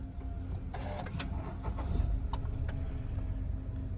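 A car engine starts with a brief whirring crank and a few mechanical clicks, followed by a low steady idle. It is fairly quiet and there is no talking.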